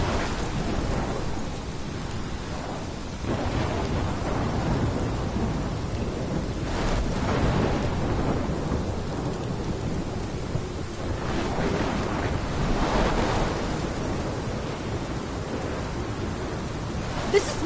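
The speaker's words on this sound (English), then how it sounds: "This is my storm." In the Life Is Strange game, a thunderstorm pours steady heavy rain while deep thunder rolls swell and fade several times, a constant loud wash of storm noise with no voices.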